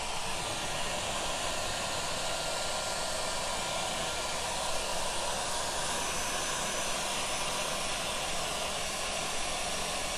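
A hair dryer blows continuously at close range to dry freshly painted furniture, a steady loud whooshing hiss throughout.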